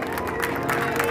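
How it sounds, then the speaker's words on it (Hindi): Crowd clapping at a community foundation-day gathering in Sri Vijay Nagar, a brief, steady wash of applause at moderate level with no clear break. "एक बार जोरदार ताली"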